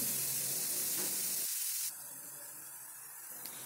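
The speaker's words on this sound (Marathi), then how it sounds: "थोडा वेळ या लसूण पेस्टला आणि टोमॅटोला व्यवस्थितपणे शिजू द्यायचं आहे।" Garlic paste and tomato sizzle steadily in a pan for a tomato thecha with fenugreek leaves, a continuous close hiss that drops slightly in level partway through, with no talk.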